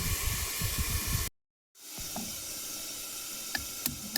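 A pan of kohlrabi and potatoes with salt fries in oil, giving a close, even hiss and sizzle that cuts out briefly before resuming more softly with a few crackles and pops.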